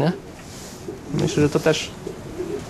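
Racing pigeons cooing in a loft, soft throaty coos heard close under someone talking in Polish.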